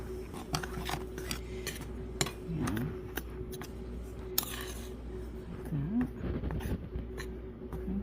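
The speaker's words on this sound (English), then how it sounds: "we're just going to put a spoon to these dry ingredients to just get them mixed" A spoon scrapes and clinks against a bowl while mixing dry cornbread ingredients, a steady run of small ticks and taps with occasional sharper knocks, and a low voice murmuring underneath.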